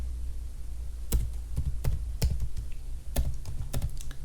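Typing on a computer keyboard to enter a search query, sharp separate keystrokes at an uneven pace over a steady low hum, close by with no speech.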